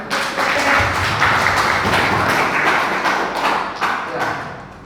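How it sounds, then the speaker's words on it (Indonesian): Audience applause at a product knowledge presentation, steady and fairly loud clapping filling the whole stretch, with faint voices mixed in. "Ya, tepuk tangan lagi."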